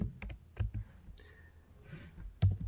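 Several key presses on a computer keyboard, including a Ctrl+S save shortcut, come as scattered sharp clicks, with a firmer tap near the end over a low background hum.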